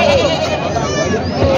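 Goats bleat at a crowded goat market in Parbhani, Maharashtra, with repeated bleats heard over a dense babble of voices nearby.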